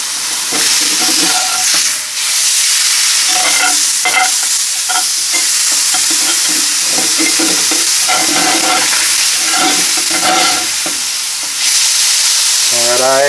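Blackened catfish fillet sizzling and frying steadily in a lightly oiled skillet, a continuous close hiss with scattered pops and a few clatters as the fish is turned over, with no talk.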